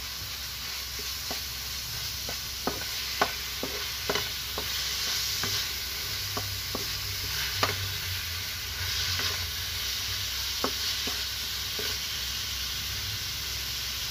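A pot of sinigang with miso and dried kamias cooks on the stove, giving a steady hiss and sizzle broken by scattered light clinks of stirring, close and alone without speech.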